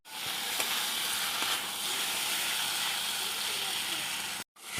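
Potatoes and pointed gourd sauté dry in a pan, giving a dense, continuous sizzle and hiss that is close and fairly loud, with a few faint clicks, before it cuts off abruptly near the end.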